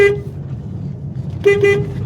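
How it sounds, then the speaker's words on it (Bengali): Horn of a Maruti Alto K10 car, repaired after a fault, beeps once briefly, then twice more in quick succession after a pause, close and clear over low engine and road rumble. "এখন হর্নটার যেখানে খুশি প্রেস করি হর্ন বাজছে ঠিকঠাকই"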